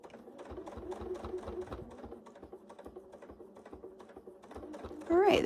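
A sewing machine stitches in an easy, steady rhythm during free-motion quilting, a close run of rapid mechanical taps and clatter, with a brief louder burst of sound at the very end.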